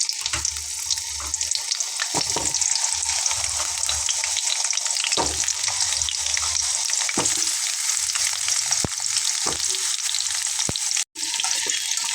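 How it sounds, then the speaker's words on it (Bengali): Potatoes frying in oil in a wok for a chicken and potato dish, giving a steady loud sizzle throughout with a few sharp clicks and stirring knocks, no voices. "এখন আমি এখানে কিছু আলু ভেজে নেব।"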